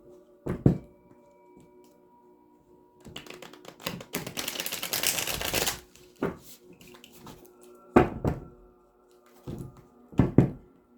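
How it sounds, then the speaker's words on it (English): Tarot cards shuffled for a reading, a rustling burst of riffling in the middle set between sharp, isolated taps and thumps of the deck being handled, close and alone without talk. "Get you some good shuffles in."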